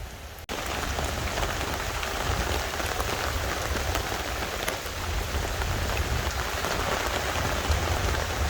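Rain falls steadily on a surface on a farm in Samoa, a dense, even patter that starts abruptly after a brief quiet moment and continues loud and unbroken, with no voices.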